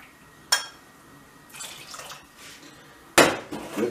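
Water is poured from a glass into a pot of summer squash, heard as a few short splashing pours with small clinks against the pot, close by, with quiet gaps between them.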